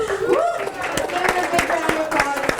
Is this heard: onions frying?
no